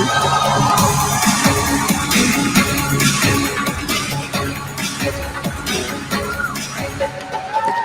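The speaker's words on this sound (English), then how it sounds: "let's cheer for Lebanon!" A crowd cheers and shouts for Lebanon's Miss World 2024 finalist, with whoops, yells and clapping merging into a loud, sustained roar across the whole stretch.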